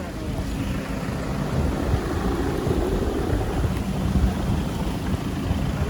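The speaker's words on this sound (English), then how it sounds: "we got a bit of torrential rain for like 10 minutes" Torrential rain pouring down during an outdoor film shoot, a dense, continuous roar of rainfall with wind buffeting the microphone, loud and steady throughout.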